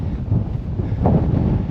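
Blustery wind on Arthur's Seat in Edinburgh roars steadily into the microphone, a close, loud, low rumble with a brief gust midway.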